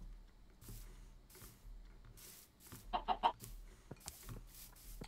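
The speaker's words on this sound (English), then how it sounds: "You chickens are bloody useless, that's why." Soft clucking from chickens in Minecraft, a short burst of quick clucks in the middle, with faint game sounds and low background noise around them.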